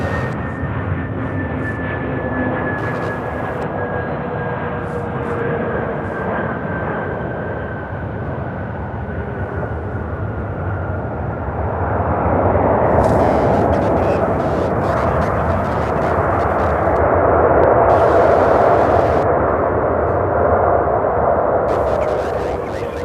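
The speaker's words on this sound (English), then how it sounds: "This A321neo arriving here from Los Angeles." An American Airlines Airbus A321neo jet arriving at Charlotte-Douglas airport, a steady broad engine roar with a faint high whine that swells louder in the second half as the plane passes near.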